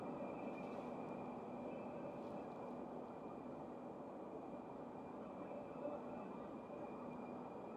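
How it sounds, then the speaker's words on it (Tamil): A Riyadh Metro train rumbles in from a distance, its low, steady roar and faint mechanical whine holding constant, with no voices. "பாருங்கள் ட்ரெயின் வந்துக்கிட்டு இருக்கு"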